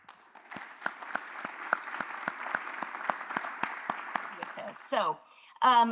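A live audience claps steadily for about five seconds, welcoming a speaker at an AARP Maine scam-awareness event. The applause is loud and even, with individual claps standing out, then fades into a speaking voice.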